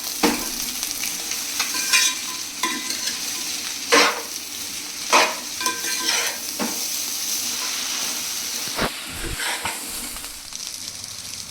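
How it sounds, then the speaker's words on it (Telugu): Fried chicken pieces are stirred into street-style chicken noodles in a hot pan, giving a steady close sizzle with repeated scraping strokes of a spatula, with no talk. "అవి కూడా వేసి మంచిగా అన్నీ కలిసే వరకు బాగా కలుపుకోండి."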